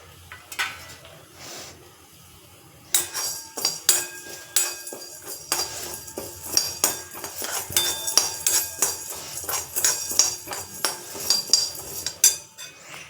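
Whole coriander seeds, peppercorns and cumin dry roasting without oil in a kadai, with a dense run of dry clinks and scraping rattles from a spatula against the metal pan, quieter at first and then busy and continuous.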